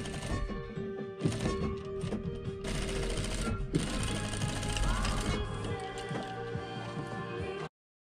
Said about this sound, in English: I'm just fast forwarding some of the tedious sewing of the tool pocket and the back pockets